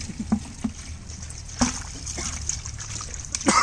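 Water is poured from a height onto finely ground hot chili while a dashparni plant extract is being made, giving a faint, soft trickle with a few light splashes.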